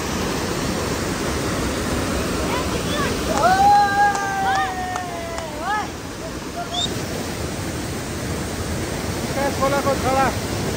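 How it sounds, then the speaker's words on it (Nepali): A mountain stream on the Nikas river in Surkhet cascades with a steady broadband rush, close and continuous, while voices talk briefly over it midway. "खोलाको छडा"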